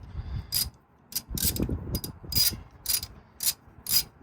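A socket ratchet loosening an ignition coil bolt on a 2.7L 3RZ Toyota Tacoma, with about ten crisp clicking bursts in an irregular back-and-forth rhythm, close up, with a soft rubbing of metal between strokes.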